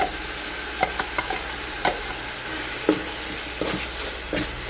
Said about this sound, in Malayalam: അപ്പോൾ ഇതിലേക്ക് നമ്മൾ വെളുത്തുള്ളി, ഇഞ്ചി, പച്ചമുളകും കൂടെ ചതച്ച് തരുവാണ്